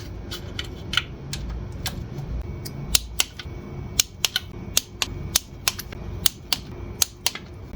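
Bolts being done up on a VW Polo 1.2 TDI engine, a run of sharp metallic ratchet clicks in irregular quick bursts over a low steady workshop hum.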